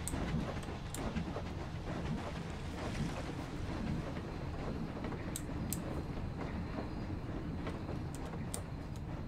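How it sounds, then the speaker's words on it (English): A steam engine in the Planet Coaster theme-park game gives off a loud, steady, rushing rumble that carries through the whole stretch with no one speaking. "this steam engine's so loud"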